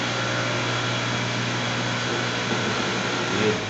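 An electric motor started through a WEG SSW07 soft starter runs with a loud, steady whirring hum that stays even, rising slightly near the end.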